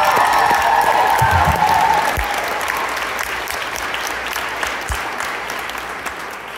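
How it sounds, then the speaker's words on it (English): A concert audience applauds loudly in a dense wash of clapping with a few cheers, gradually thinning and fading over several seconds. "So please give a huge round of applause"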